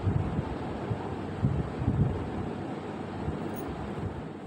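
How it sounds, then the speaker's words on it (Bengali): Steady, roaring wind from a storm buffets the microphone, with rough gusts swelling and easing throughout; no voices. "বাইরে প্রচুর পরিমাণে হাওয়া ছেড়েছে, ঝড় উঠে গেছে"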